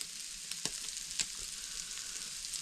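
Cocoa powder stirred into simmering homemade chilli sauce, a soft steady bubbling hiss with a few light spoon taps against the pan, faint and close, no speech.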